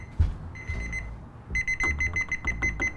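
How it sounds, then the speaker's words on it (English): A kitchen timer alarm goes off while beef marinates, emitting bursts of rapid high electronic beeps, one short burst then a longer repeated run, moderately loud over faint kitchen background. "that's the alarm for the beef."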